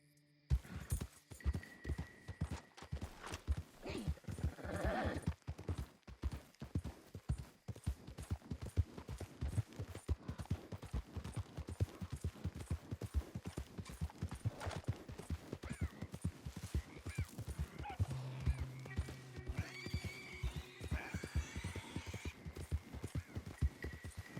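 Horse hooves clip-clop steadily in Red Dead Redemption 2, a close, rhythmic walking gait over a low rumble of ambient game sound, with an occasional whinny and snort.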